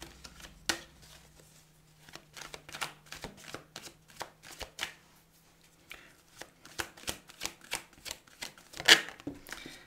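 A tarot deck is shuffled close by for a reading, with irregular bursts of riffling and slapping cards separated by short quiet gaps and no voices.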